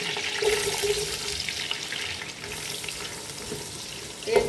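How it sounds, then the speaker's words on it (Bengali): Onions sizzle and crackle in hot oil with cardamom, cinnamon and bay leaf, a steady, hissing fry, close up, and a brief clatter near the end. "একটু হালকা ভেজে নেব পেঁয়াজ ভাজা হয়ে গেছে"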